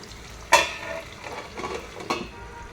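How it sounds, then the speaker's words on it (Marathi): Okra and potatoes frying in a pan on low heat, a soft sizzle with a couple of sharp spatula clinks and scraping stirs against the pan, close and quiet, with no talk. "तुम्ही बघू शकता आपले बटाटे छानपैकी परतलेले आहे, गोल्डन कलर आलेला आहे"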